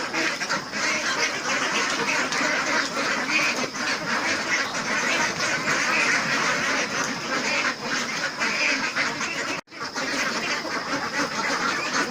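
Many ducks quack continuously while eating, a dense, noisy chorus, close by and steady throughout, with no voices over them.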